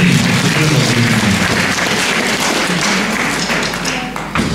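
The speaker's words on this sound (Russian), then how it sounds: "Всем аплодисменты." Loud, dense audience applause fills an auditorium at a school rock music festival, sustained clapping that tapers slightly toward the end.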